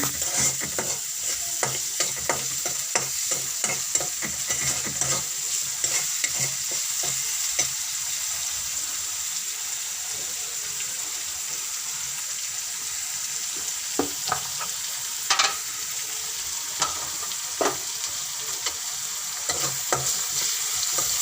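Salted onions fry in oil for a rohu fish and turnip curry, giving a continuous close sizzle with frequent spatula scrapes and taps as they are stirred, heard alone without talk.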